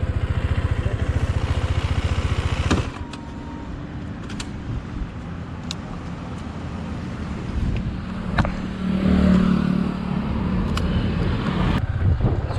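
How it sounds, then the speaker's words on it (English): A KTM 390 Adventure motorcycle on a test ride gives a steady engine drone with wind rush, shifting in pitch and loudness as it rides, with occasional clicks and no talking. "that was all about the test drive on KTM 390 Adventure"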